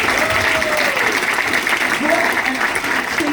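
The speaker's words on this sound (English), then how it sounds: "Round of applause for the lady." Audience applause at a UK and Ireland business event panel, a steady wash of clapping throughout with a voice talking over it.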